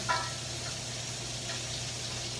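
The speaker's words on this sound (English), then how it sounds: "We're really just kind of sweating them, getting the vegetables cooked a little bit." Vegetables with garlic sweating over moderate heat in a pan for mussels with andouille sausage, tomatoes and potatoes: a soft, steady sizzle runs evenly throughout with a faint crackle near the start, no talking.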